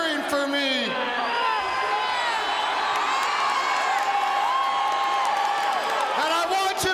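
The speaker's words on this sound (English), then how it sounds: "I'm not used to a lot of people cheering for me." A crowd cheers and whoops at a Saturday Night's Main Event wrestling show, a loud, continuous roar under a speaking voice, with rising shouts throughout.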